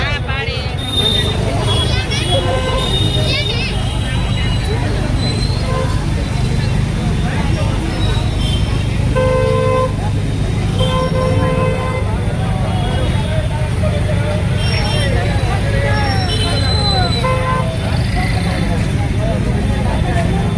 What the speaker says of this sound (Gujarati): ખાલી 4 મિનિટનો ટ્રાફિક જોવો.